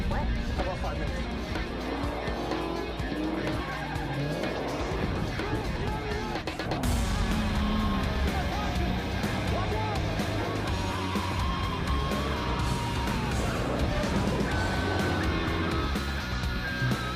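A car chase involving a garbage truck in an action film: continuous roaring engines, squealing tires and skids, with a sudden loud impact partway through, all under a dense, loud film soundtrack.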